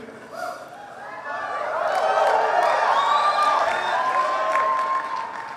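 A CPAC 2014 crowd claps and cheers for a speaker, the applause swelling to a broad peak and holding with scattered whoops before easing slightly.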